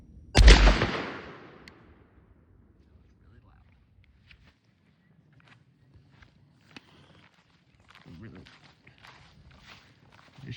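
A 20 gauge shotgun fires a heavy metal duck load outdoors: one sharp, loud blast at the start that rings out and decays, followed by quiet rustling and faint footsteps.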